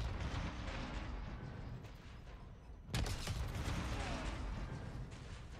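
In the Call of Duty MWZ video game, a planted explosive detonates midway with a sharp, loud blast. A rumbling, crackling tail follows over a steady background of game noise.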